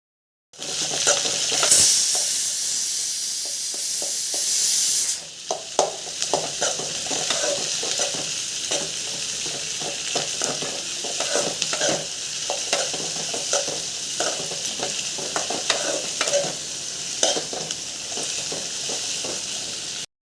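Steady crackling sizzle of curry leaves and spices frying in hot oil, loud and close, with occasional stirring scrapes and a burst of spattering near the start.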